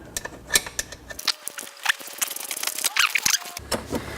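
A small wrench turns bolts to free the controller on a CSC City Slicker motorcycle, giving close, irregular metallic clicks and ratcheting ticks in short bursts with brief pauses.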